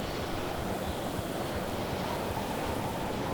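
Steady roaring wind gusts sweep through the game world of Pacific Drive, a broad, continuous rushing noise with no break, heard alone and fairly loud throughout.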